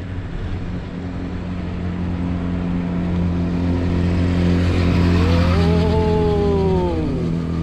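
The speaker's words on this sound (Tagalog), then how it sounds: "May motor." A motor engine revs steadily and loudly with a rising, falling pitch sweep near the end, heard outdoors at a dam with no talking.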